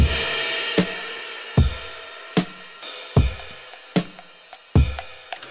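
A steady drum loop chopped from a track plays alone: punchy kicks and sharp snare hits repeating in a loose, even groove with light cymbal ticks between.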